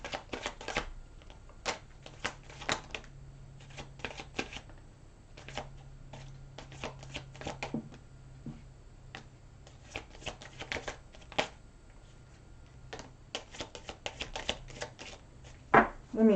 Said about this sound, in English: So let's take out more cards for Sagittarius.